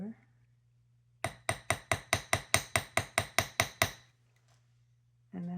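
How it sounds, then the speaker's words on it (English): A metal hammer taps the tip of a wire French hook ear wire about a dozen times in a quick, steady series of sharp, close strikes, with a low steady hum underneath and a voice starting at the very end. "hold the ear wire just at that very tip and tap lightly on the end."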